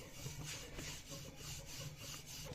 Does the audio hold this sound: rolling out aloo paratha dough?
yes